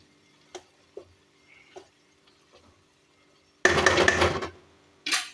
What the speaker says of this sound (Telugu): మూత పెట్టేసి